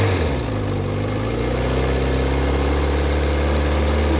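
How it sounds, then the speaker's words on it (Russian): A Kawasaki ZZ-R400 motorcycle engine idles continuously with the clutch engaged, a low, even rumble and constant vibration, close by and with no other sounds. "Послушаем работу сцепления."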